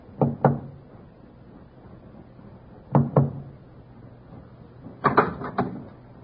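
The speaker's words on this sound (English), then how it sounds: "First Officer Forsyth, with Watchman Petrie at his elbow, knocked discreetly on the door to B-24." A radio-drama sound effect of knocking on a ship's cabin door: two discreet double knocks, then a quicker run of four or five raps, with quiet pauses between and no voices.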